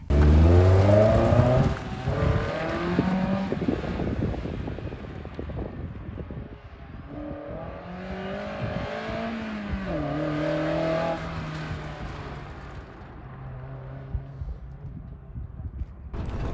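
The four-cylinder engine of a Mazda NB Miata revs hard and climbs through the gears on an autocross run, rising and falling with each shift and lift, with wind buffeting the microphone and the engine fading lower toward the end.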